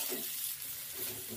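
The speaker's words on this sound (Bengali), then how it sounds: "এবার পেঁয়াজটাকে মাঝে নাড়িয়ে দেবো" Onions fry in a pan as they are stirred, giving a soft, continuous sizzle and hiss with faint scraping, low in level and steady throughout, with no one talking.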